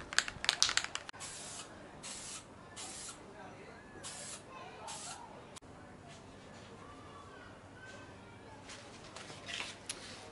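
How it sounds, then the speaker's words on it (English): Etch primer sprayed onto the body of a Land Rover ute, a series of hissing spray bursts, loud at first and then fainter and steadier as the painter works around the car. "I'm going to go around the car, hit it with a few coats, well, one coat of etch primer"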